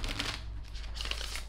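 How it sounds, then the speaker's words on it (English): Tarot cards shuffled by hand in quick, crisp riffling bursts, close and fairly soft, with brief pauses between flurries and no voices. "I'm hearing shuffle three times, cut once."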